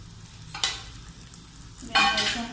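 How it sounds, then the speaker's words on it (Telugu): Garam masala, coriander powder and coconut powder stirred in a hot frying pan for a Kadapa-style kushka, with low steady sizzling broken by two sharp scraping strokes of the spoon against the pan. "వేసాం కదా, ఒకసారి కలుపుకుందాము."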